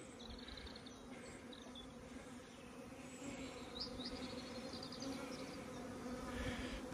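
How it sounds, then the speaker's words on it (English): Honeybees buzzing around hives, a continuous, fairly faint droning hum with individual bees whining past now and then, steady throughout. "So all these bees are pretty happy."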